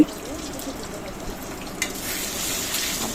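Two eggs dropped into hot oil with dried red chilli in a pan for a snake gourd dish, a steady close sizzle with a few light stirring knocks, the frying growing brighter toward the end.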